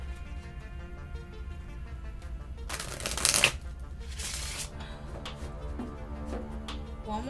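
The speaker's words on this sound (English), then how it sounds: "One more shuffle" Tarot cards being shuffled in a steady, close riffling patter, with a louder burst of card noise partway through; no talking.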